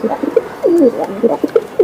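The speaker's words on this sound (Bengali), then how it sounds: "এই যে দেন কবুতরগুলা বাহ চমৎকার ভাই চমৎকার" Racer pigeons coo in a series of soft, throaty, rolling calls close by, several short burbles and one longer warble over less than two seconds.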